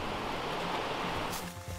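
The White River in Dominica's jungle, running green rather than white, gives a steady broadband rush of flowing water, close and continuous, easing slightly at the end with no talking.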